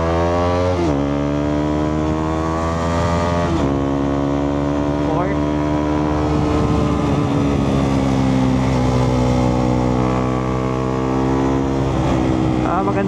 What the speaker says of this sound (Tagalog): Second gear acceleration.